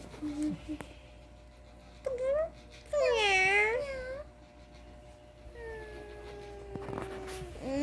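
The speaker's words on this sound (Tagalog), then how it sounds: "Ang lambing naman yan ng pusa namin." Domestic cats meow several times, close and clear, with some drawn-out rising and falling calls, while a person talks softly in between.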